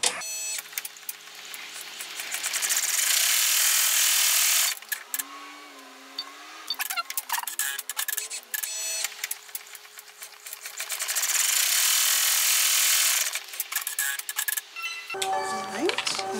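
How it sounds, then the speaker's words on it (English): In-the-hoop embroidery machine stitching down a window wallet pocket, with a loud, rapid mechanical whirring that runs in long stretches, pauses briefly in the middle and then starts again, close by. "Sew the pocket down, or the window down."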